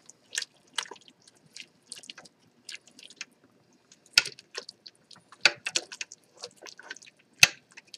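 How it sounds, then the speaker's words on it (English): A spoon works through dwarven-style beef and potatoes in a pot, giving sparse, irregular wet clicks and squelches. Quiet gaps fall between them, with a few sharper knocks standing out. "And give this a stir."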